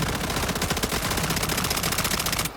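A 40-round submachine gun in SCP: 5K fires continuously, a dense rapid stream of loud shots filling the whole burst and ending abruptly.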